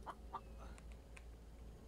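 Chicken clucking in the survival video game The Infected, a few short soft clucks at the start followed by fainter chirpy calls over a steady low background hum.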